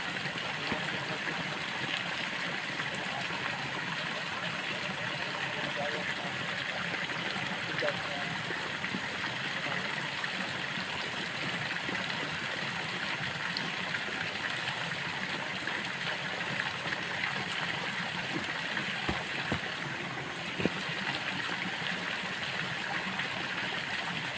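Steady rushing of flowing stream water in a forest, continuous and fairly close, with no pauses throughout.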